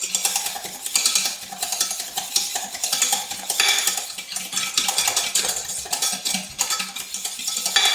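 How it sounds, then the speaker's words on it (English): Custard being whisked continuously in a pan, a busy run of rapid metallic scraping and clinking of the whisk against the pan's sides, close and steady, with no voices. "continuously whisking"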